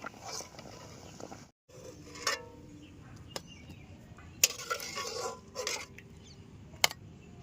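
A pot of boiled potatoes is lifted off the stove, giving faint scattered metallic clanks and clinks of cookware against a quiet room, with a brief silent gap early on.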